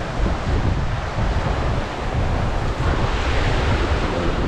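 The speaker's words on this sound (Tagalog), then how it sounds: "Medyo mahangin." Strong wind roars across open water from a fishing boat at sea, with crashing surf underneath, a loud, constant rush with no voices.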